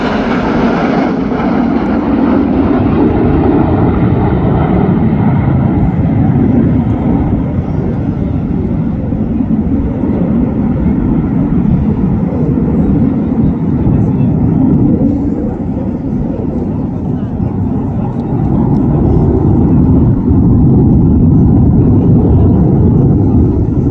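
Red Arrows jets flying an aerobatic display at the Midlands Air Festival, a loud continuous roar of jet engines that holds steady and slowly shifts in tone as the aircraft pass.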